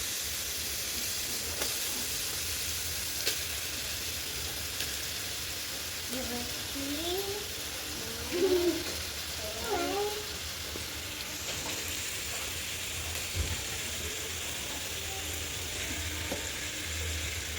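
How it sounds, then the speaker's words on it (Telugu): Fish pieces frying in a pan with ginger-garlic paste for fish curry give off a steady, dense sizzle and hiss that runs throughout, with brief faint voice-like sounds in the middle. "ఇప్పుడు చేప ముక్కలు వేసుకుందాం"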